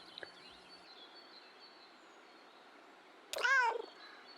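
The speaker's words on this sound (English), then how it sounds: "Reassuring meow." A short, soft, reassuring meow from a cat in the video game Kentucky Route Zero sounds once near the end, with a brief faint click earlier and quiet game ambience otherwise.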